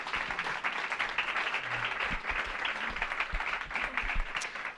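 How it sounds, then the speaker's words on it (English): Audience applause at a design talk, a steady patter of clapping from a moderate-sized crowd, fairly soft and even throughout with no talking over it. "Sure, let's applaud."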